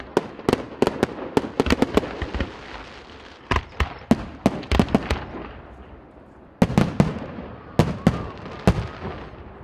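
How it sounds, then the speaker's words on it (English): Fireworks display capping off a night show at Broughton Hill, with loud, sharp bursts and crackling pops arriving in rapid irregular clusters, separated by brief lulls of fading rumble. "The night was capped off with another jaw-dropping fireworks display."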